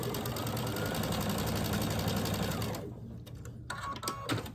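A sewing machine runs steadily while stitching quilt fabric pieces at a 1/4-inch seam, a loud, even mechanical whir that stops abruptly near the end, followed by a few softer handling clicks and rustles.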